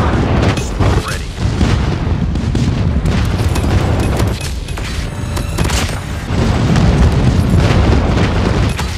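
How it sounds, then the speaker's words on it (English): Loud, dense booming explosions from an airstrike in the mobile shooter Call of Duty Mobile during a Hardpoint match, rolling continuously across the whole stretch with bursts and crackle layered over a heavy low rumble. "Friendly airstrike incoming."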